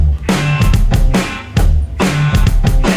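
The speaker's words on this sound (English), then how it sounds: "He's just playing the kick and the snare." Kick and snare rhythm on a drum kit from a recording, a hard-driving repeating pattern of deep kick thumps and cracking snare backbeats, loud and close within the full band mix.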